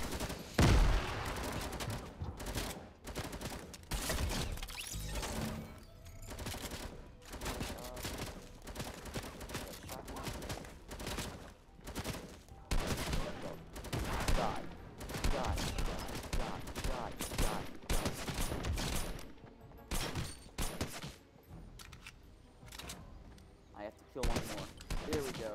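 Rapid bursts of light machine gun fire in Fortnite, dense repeated volleys running almost continuously with gaps, mixed with game effects and brief talk.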